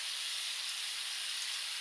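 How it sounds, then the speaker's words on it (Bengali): Water poured into a pan of browned, cooked-down meat, giving a steady bright sizzling hiss that holds evenly at moderate loudness with no pauses and no talk. "জল দিয়ে দিলাম।"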